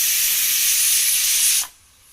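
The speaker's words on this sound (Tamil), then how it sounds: "விசில் வந்துடுச்சு." A loud, steady hiss of steam from a twelve-year-old pressure cooker whistle that has been repaired, released close by and alone for about a second and a half, then cutting off sharply into near silence.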